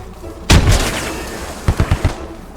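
In the video game Squad, a thrown bomb explodes outside with one sharp loud blast, followed a second later by a quick burst of four or five gunshot-like cracks.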